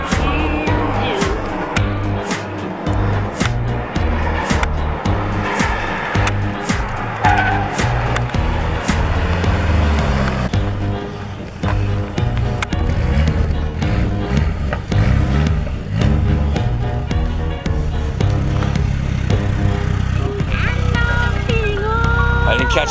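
A Nissan 240SX engine running after being brought back to life, a loud continuous engine drone that rises and shifts in pitch, with tire and road noise mixed in throughout.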